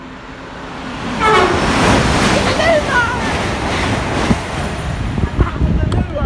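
A fast train approaching and running through Stevenage station at speed, a steady loud roar building over several seconds with rising whine and rattling, and people talk over it.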